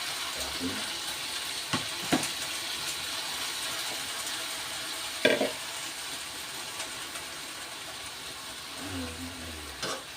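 Vegetables for chop suey sizzle steadily in a hot pan, a constant close hiss broken by a few sharp clatters of stirring.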